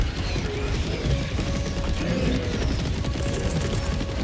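Automated sentry gun in Helldivers 2 firing continuously, a dense, loud, unbroken roar of rapid gunfire and crashing impacts filling the whole stretch.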